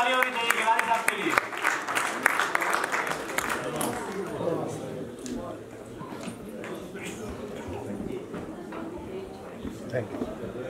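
An audience at a mushaira in Ealing Town Hall, London applauds a poet, with loud dense clapping for the first few seconds that then fades into scattered claps, murmuring and voices talking.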